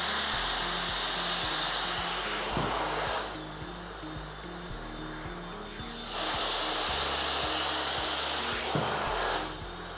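A Dyson Supersonic Nural hair dryer blows with a steady, loud airflow whine that cuts off and restarts twice, switching between running and quiet spells, with no talk.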